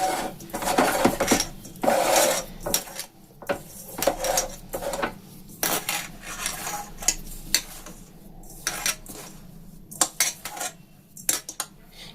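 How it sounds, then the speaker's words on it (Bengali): Upma being mixed by hand with a little oil and ajwain to make paratha dough, giving close, irregular clinking and squishing knocks in uneven bursts, with no voices. "এবার এগুলোকে আমি হাত দিয়ে খুব ভালো করে মিশিয়ে নেব।"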